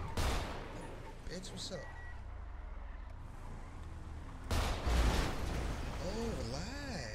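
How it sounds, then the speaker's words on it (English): A rapid burst of video game gunfire aimed at a car headlight rings out, followed by a second loud volley, with someone talking over the shots and engine hum in the background. "I'm gonna shoot out your, headlight, but I should shoot"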